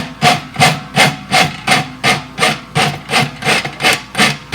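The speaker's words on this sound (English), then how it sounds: "And then we'll rasp it." A farrier's rasp filing a horse's front hoof, eleven or so even, rhythmic rasping strokes about every half second, loud and close, with no talk.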